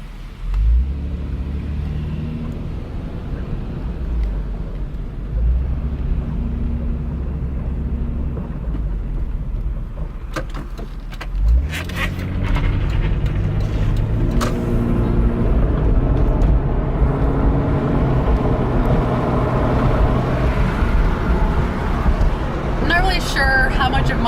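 Interior of an MK4 Toyota Supra on the road with the windows down, a steady loud engine and road rumble throughout that thickens and rises after a brief dip midway, with no talk.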